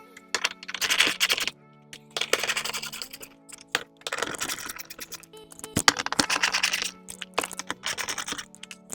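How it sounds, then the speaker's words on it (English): A 10mm deep well socket backing bolts out of the air box on a Ram 1500, several bursts of clicking, ratcheting, rattling metal separated by short pauses, close up with no talk. "we're just going to take our 10mm deep well socket and take all these bolts out"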